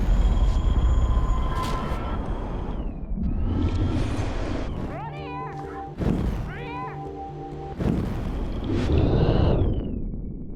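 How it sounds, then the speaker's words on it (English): An approaching train in the game Life Is Strange rumbles loudly, with squealing metallic tones and horn-like blasts sounding over heavy low noise, without voices. "The train's coming!"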